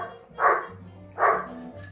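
Two sharp barks from playful dogs, evenly spaced about three-quarters of a second apart, fairly close and moderately loud over a quiet indoor background.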